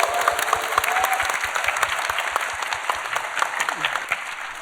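An audience at a church service applauds warmly to welcome Pastor Seo's sermon, dense steady clapping that fills the room for several seconds.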